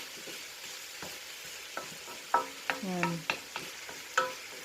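Hard squash pieces dropped into a hot frying pan for pinakbet, with a few sharp clatters and a stir, followed by a light sizzle; a brief voice is heard.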